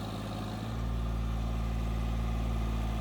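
A parked John Deere tractor's diesel engine runs at idle close by, its low rumble deepening and growing a little louder after the first moment, then holding steady.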